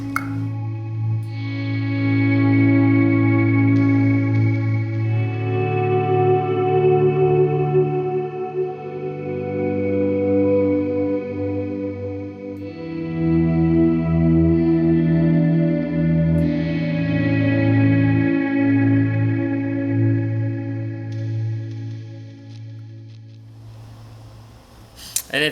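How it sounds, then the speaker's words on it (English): Electric guitar through a dual delay with a Boss RV-5 digital reverb pedal on its modulate setting; lush sustained chords and notes swell with echoes and a shimmering wash, loud and continuous with no talking. "Now with the reverb."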